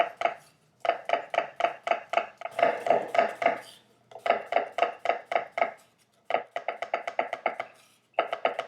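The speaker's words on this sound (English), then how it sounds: "Follow it up by just simply chopping up the cucumbers." A knife chops cucumbers on a cutting board in quick bursts of sharp, rhythmic taps, several runs of close, crisp knocks separated by brief pauses.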